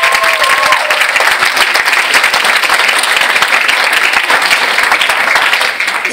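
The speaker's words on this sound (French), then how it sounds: "sous vos applaudissements, bien sûr." Loud, dense applause from an audience at an inter-school pleading contest in Martinique, a steady sustained wash of many hands clapping that holds for several seconds before easing slightly at the end.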